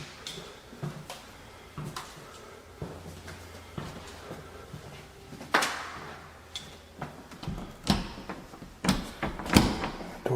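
Locked door in an empty building being tried and rattled, a series of sharp clattering knocks and thumps at irregular intervals, with a louder burst of rattling near the end over a quiet room.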